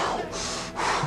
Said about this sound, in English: And start breathing deeper.